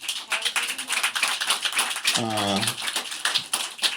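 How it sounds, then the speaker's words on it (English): Audience applause at a book talk, a dense patter of clapping running throughout, with a voice speaking briefly over it midway. "Give them a hand of applause."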